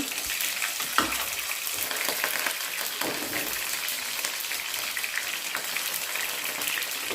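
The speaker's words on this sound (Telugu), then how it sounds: "ఇప్పుడు అదే ఆయిల్లో మిగిలిన బెండకాయ ముక్కలు కూడా వేసుకోవాలి" Okra pieces fry in hot oil with a dense, continuous crackling sizzle, close and steady throughout, with an occasional utensil knock and no speech.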